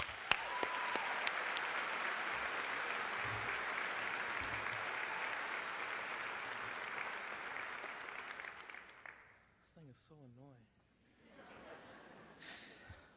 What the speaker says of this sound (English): everyone give a round of applause to the graduating class of 2019